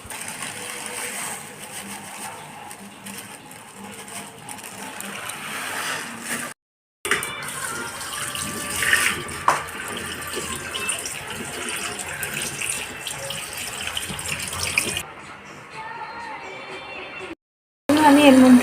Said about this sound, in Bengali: এই যে ডাল আর চাল একসঙ্গেই ধুয়ে নেব।